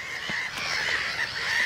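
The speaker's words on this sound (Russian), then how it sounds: "болото и чайки с чаятами" Gulls and their chicks calling beside a swamp near a bypass road, a steady chorus of repeated high cries at moderate distance with no talking.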